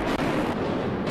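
A tall building's demolition blast roars as a sustained, loud rumbling wall of noise, broadband and continuous with no gaps, as set off by detonators placed at points in the structure.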